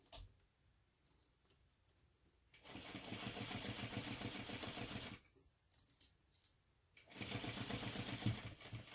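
A sewing machine stitches the seams of a zippered ID case, running in two long steady bursts of rapid, even, rattling stitches, with quiet handling and fabric shuffling before and between the bursts.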